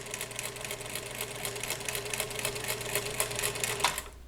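A domestic sewing machine runs steadily, stitching a quarter-inch seam on a quilt block in a continuous whirring, rapidly pulsing drone at close range, with no talk, before it stops near the end.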